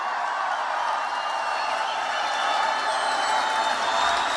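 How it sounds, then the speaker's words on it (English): A large crowd at a Donald Trump rally in Reno, Nevada, applauding for law enforcement, a broad continuous roar of clapping and cheering that swells slightly toward the end. "Let's give a round of applause for our law enforcement."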